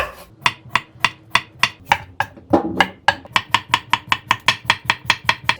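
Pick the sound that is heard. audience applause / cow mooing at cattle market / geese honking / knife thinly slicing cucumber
knife thinly slicing cucumber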